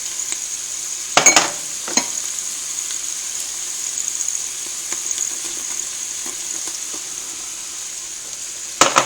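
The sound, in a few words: flour stirred into sautéing onions and garlic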